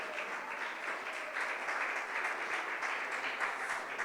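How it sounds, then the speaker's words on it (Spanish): Sustained applause from a church congregation, many hands clapping steadily at moderate volume throughout. "Aplauda el nombre del Señor Jesucristo."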